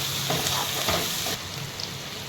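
Peanuts and onion sautéing in oil with salt, a steady close sizzle with a few scraping stir strokes, the hiss dropping a little partway through.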